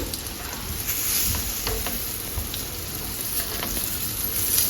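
Stuffed okra fries in oil in a pan, giving a steady, close sizzle with faint crackles and pops throughout, with no talking.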